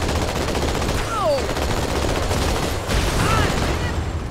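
Turret gunfire in Halo 2 Anniversary, a loud, sustained stream of rapid shots at close range with a few whistling projectile sweeps cutting across it.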